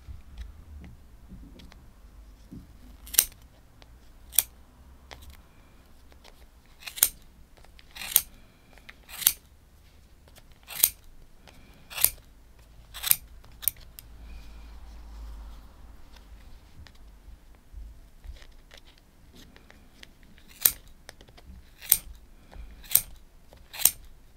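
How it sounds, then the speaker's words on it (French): Scissors snip crochet yarn in a run of sharp, crisp clicks, about a dozen and a half cuts spaced irregularly over a quiet room, close to the microphone. "avec des ciseaux ici, vous allez venir couper au milieu"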